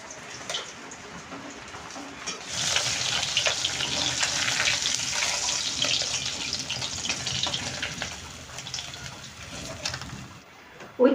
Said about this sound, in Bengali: মাছটা বেশি কড়া করে ভাজবো না